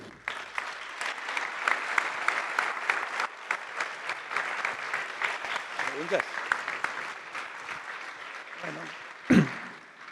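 A seminar audience gives sustained applause for a tunnel-building engineering team, a steady spread of clapping with a few voices and a louder burst near the end.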